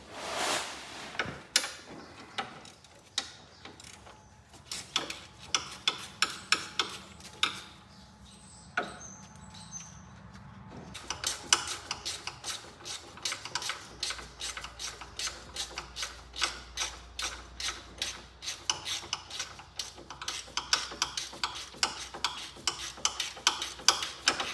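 A hand ratchet removing bolts from the manual steering box on a Cub Cadet Cyclops garden tractor, with runs of rapid close clicking, intermittent clanks and metallic knocks, and a quieter pause partway through.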